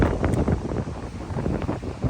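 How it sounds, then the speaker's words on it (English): Strong wind buffets the microphone in a steady, loud roar with gusty low rumbling throughout. "it's really windy out here, as you guys can see."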